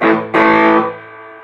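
Two quick, heavily distorted electric guitar chords through a humbucker pickup ring out loud, gritty and mid-focused, the second one sustaining before fading away.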